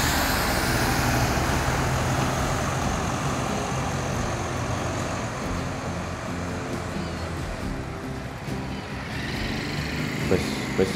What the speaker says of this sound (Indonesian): Bus sudah mulai banyak yang beroperasi.